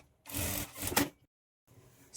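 Sewing machine stitching the folded edge of a scalloped blouse sleeve, one close burst of rapid mechanical stitching lasting about a second, a short pause, then a fainter run.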